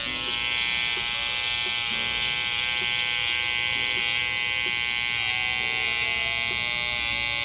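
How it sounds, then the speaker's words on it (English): Electric hair clippers buzz steadily through a clipper-over-comb haircut, a loud close continuous drone with small shifts in pitch as the blades pass through the hair. "I'm gonna come in with clipper over comb"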